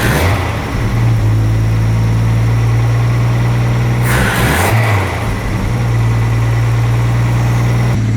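A car engine with a carburetor dead spot runs steadily at a loud idle, its low drone holding for several seconds, then dipping and faltering briefly midway before picking back up.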